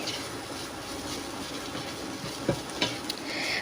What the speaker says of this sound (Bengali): এবার সমস্ত উপকরণগুলো আবারও খুব ভালোভাবে একসাথে মিশিয়ে নিতে হবে